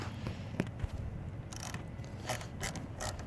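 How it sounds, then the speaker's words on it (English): Phillips screws being backed out with a Snap-on screwdriver on a Cub Cadet two-stage snowblower carburetor, a faint close-up series of ratcheting clicks and small scraping ticks at uneven intervals. "So let me get these screws out."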